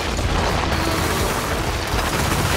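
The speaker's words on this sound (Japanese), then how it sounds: "よし、コンクリートキャノンを発射だ。" A concrete cannon fired in the video game inFAMOUS Second Son, a dense, loud rumbling blast of crumbling impacts and booming bursts filling the whole moment without a break.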